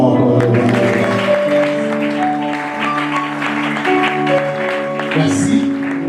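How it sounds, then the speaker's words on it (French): A church congregation applauding together, a steady sustained clapping that runs the whole time, mixed with singing or sustained voices and a brief vocal outburst near the end. "Acclamons encore."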